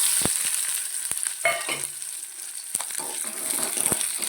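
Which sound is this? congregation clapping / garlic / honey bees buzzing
garlic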